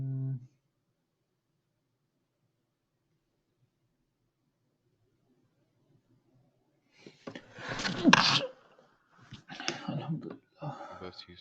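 A sneeze bursts out after a long near-silent pause, sharp and fairly close, followed by brief breathy sounds and a few short noises.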